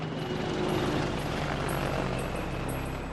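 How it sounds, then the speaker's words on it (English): An Apache helicopter hovers over a district of Baghdad, producing a continuous dense rotor and engine roar with a steady whine, loud and unbroken throughout. "from an Apache helicopter as it hovers over a district of Baghdad"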